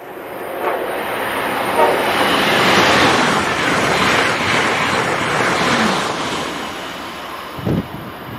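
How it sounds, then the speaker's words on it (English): An Amtrak Acela high-speed train rushes through Princeton Junction station, a loud, sustained roar of wheels and wind that swells and holds for several seconds, then eases, with a brief sharper burst near the end. "That was Amtrak Acela train number 2252 passing through at 1:12 p.m."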